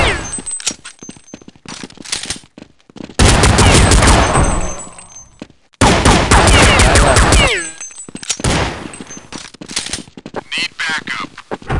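Gunfire in Counter-Strike 1.6, with loud sustained automatic bursts in two long volleys and rapid shorter shots between them, close and dominant over brief voice callouts.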